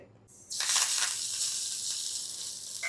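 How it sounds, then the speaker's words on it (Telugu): Tadka tempering dropped into hot oil, bursting into a loud, bright sizzle that stays steady and hissing for a couple of seconds, up close. "ఆ టచ్ అప్ ఏం కాదండి జస్ట్ తాలింపు వేయాలి అంతే"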